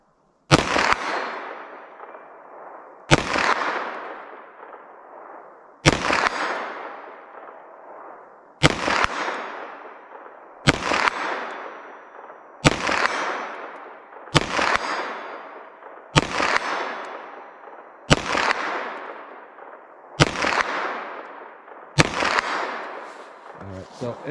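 Ten sharp, loud gunshots from a 9mm pistol firing +P Corbon Glaser Safety Slug blue rounds, spaced roughly two to three seconds apart, each crack trailing off in a long outdoor echo.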